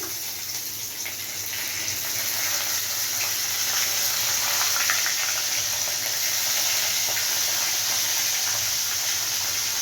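Green chillies sizzle in hot oil in a pan while a Bengali fish curry is being cooked. The frying makes a steady, loud hiss that builds slightly after the first couple of seconds and holds without a break.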